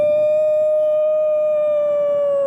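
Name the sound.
distant dog or jackal howling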